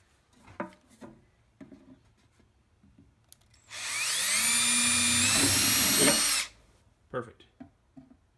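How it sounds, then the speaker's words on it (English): Power drill boring holes in wood while building a birdhouse from a license plate, one steady loud whine of nearly three seconds, close up, with people chatting before and after. "now drill your holes, sir"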